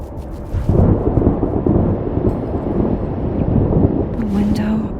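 Thunderstorm in the video game Life Is Strange Double Exposure, a loud, broad roar of rain and rolling thunder swelling after the first second and holding steady, with a brief low tonal sound near the end.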